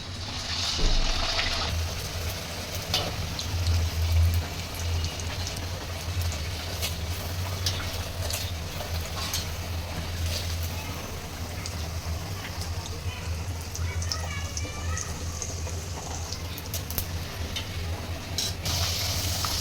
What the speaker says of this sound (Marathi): यानंतर आपण या लाटून घेतलेल्या पूर्ण पुरी तळून घेऊया